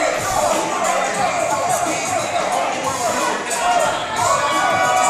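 Crowd in a wrestling arena cheering and chanting, a loud, dense wall of voices that swells and stays sustained throughout, with no single voice standing out.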